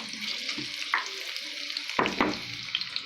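Onions frying in a pan until reddish, a steady hiss of sizzling with a few scraping stir strokes and clinks, close and continuous with no talking.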